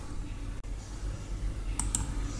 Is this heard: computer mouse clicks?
yes